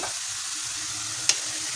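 Meat and onions fry in a pan with a constant, even sizzle and one sharp utensil tap near the end, with no voices.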